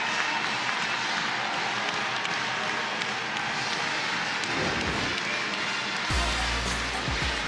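The crowd at a women's college basketball game in Raleigh, NC State against Chattanooga, cheers and applauds at halftime. The noise makes a broad, steady roar that fills the arena, and a low thump sounds near the end.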